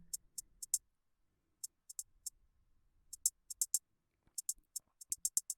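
Sparse drum hi-hat hits with randomized panning in Bitwig Studio, crisp short ticks in irregular clusters separated by silence, with no voices.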